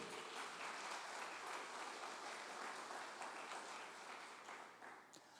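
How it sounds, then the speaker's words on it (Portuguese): Church congregation applauding together, a dense steady wash of many hands clapping that fills the space and fades slightly toward the end, with no voices on top. "dê as palmas para Ele"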